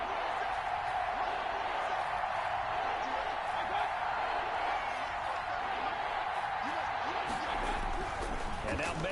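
Stadium crowd roar from an American football video game, a steady wash of cheering that builds ahead of a big third down, with a commentator talking over it throughout.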